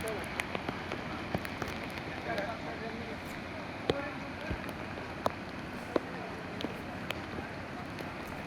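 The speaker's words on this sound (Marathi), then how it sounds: "पावसाचा जोर बराच वाढता आहे।" Heavy rain pours down in Jalgaon, a dense, steady hiss with scattered sharp drip and tap sounds on surfaces throughout, moderately loud and uninterrupted.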